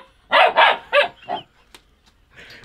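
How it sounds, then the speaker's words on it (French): A small puppy plays indoors, letting out four quick, high yapping barks in a burst, close and fairly loud, then a few faint yips and rustles. "Si vous entendez, c'est le petit chien."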